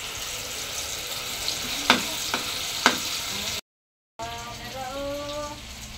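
Eggplant sizzling in a wok, a steady close frying hiss broken by a few sharp scraping clicks, then a brief gap of silence before the sizzle resumes with bubbling spatters.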